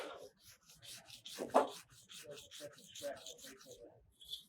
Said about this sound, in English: This will hold it to sand it faster.